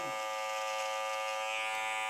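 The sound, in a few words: electric beard trimmer buzzing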